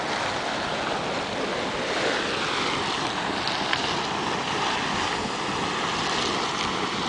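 Hot water erupts from a geyser at El Tatio in the Atacama Desert, a continuous broadband rushing and splashing roar mixed with wind buffeting, steady and fairly loud throughout with no talking.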